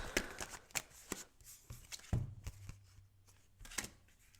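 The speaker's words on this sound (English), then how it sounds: "So, just want to take one more card for this Knight of Cups." Tarot cards are shuffled and drawn by hand, giving quiet, irregular papery riffles and soft slaps, close and fairly faint, with no talking.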